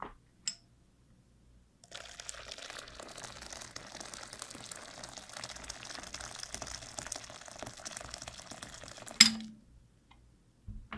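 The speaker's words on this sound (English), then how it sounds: "I'm going to add a little bit of more water." Water is poured gently and steadily into a bowl of dissolving honey soap bar for homemade SLS-free liquid shower soap, a close, even trickle lasting several seconds, bracketed by a light clink at the start and a sharper clink at the end.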